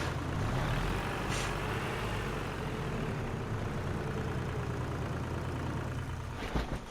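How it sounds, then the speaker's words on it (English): A farm vehicle's engine idles in Farming Simulator 25, a steady, dense diesel rumble that holds level for several seconds and ends with a brief hiss and clunk. "let's turn the engine off."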